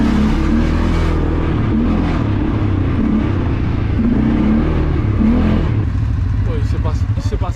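A vehicle engine revs and accelerates on a trip in Mauritius, a loud, close drone holding steady and then rising in pitch toward the end.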